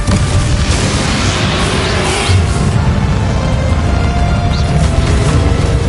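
A Confringo blasting spell explodes in the Hogwarts Legacy game, a loud, dense rumbling boom that fills the whole stretch with heavy, noisy roar and a few softer bursts later on.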